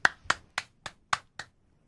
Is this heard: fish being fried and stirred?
no